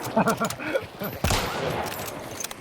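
A loud burst of gunfire erupts around 1.2 seconds in a Hunt: Showdown match, a sharp shotgun-style blast with a lingering crackly tail, preceded by a voice talking and laughing.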